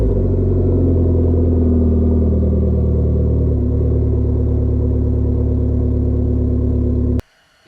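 A Dodge SRT-4 with a 3-inch Magnaflow exhaust revs steadily, with a loud, sustained engine drone and exhaust rumble that holds for about seven seconds before cutting off abruptly.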